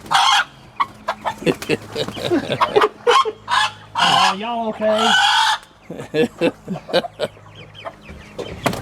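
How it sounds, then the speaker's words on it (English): A rooster crows loudly and close among clucking, squawking chickens on a farm, with a burst of rapid calls in the middle and a person speaking briefly among the birds. "That rooster going crazy"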